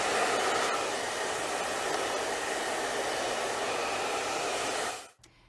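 A hair dryer blows steadily and loudly on hair during a Big Sexy Hair Root Pump styling session, a constant broadband rush that runs for about five seconds before cutting off abruptly.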